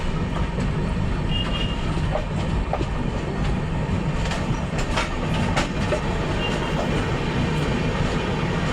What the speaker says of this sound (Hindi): इस ट्रेन को हम लोग ओवरटेक कर रही है विवेक एक्सप्रेस